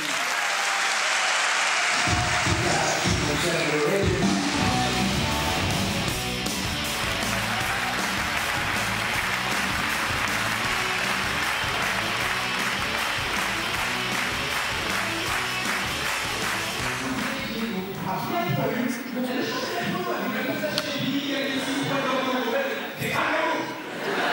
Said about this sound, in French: Je vous demande un tonnerre d'applaudissements pour Noman Osni